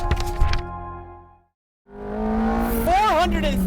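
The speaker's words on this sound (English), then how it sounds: "We're inside of a Ferrari F430." A Ferrari F430 sports car on a set-up driving course, engine revving loudly up and down with tire squeal, cut off by a brief silence before the engine roars again and climbs through gears.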